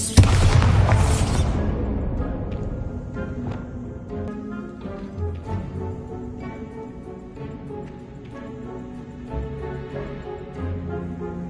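A Bombarda explosion spell from Hogwarts Legacy goes off as a loud, broad boom at the start, then fades into a long rumbling tail that sits beneath the game's background music and effects.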